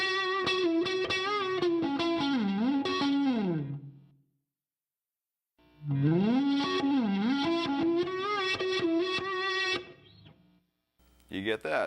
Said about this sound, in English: this next phrase is kind of how the guitar solo begins and spills into the preceding bar, because I'm playing it backwards